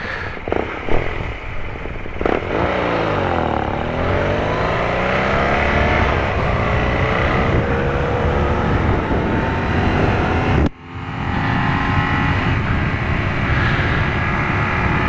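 A 2017 BMW R nineT cafe racer motorcycle engine roars loud and close, revving up and down in sweeping surges before holding a steady idle, then cutting abruptly and restarting.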